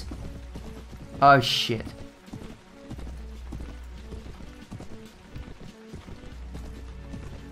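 Horse hooves in the medieval combat game Mount & Blade Warband, a soft rhythmic clip-clop under game noise with a brief loud whoosh near the start, while someone talks over it.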